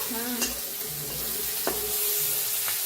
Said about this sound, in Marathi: आता बघा कांदा छान भाजलाय